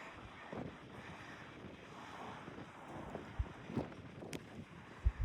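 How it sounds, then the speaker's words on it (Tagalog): Strong wind on a hilltop at the Battle of Hastings site in the United Kingdom buffets the microphone in a constant roar, with occasional gusty thumps and a few sharp knocks near the end. "Lakas ng hangin, baka ilipad ang ating sombrero."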